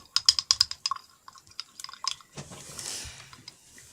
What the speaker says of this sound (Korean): 물방울 소리.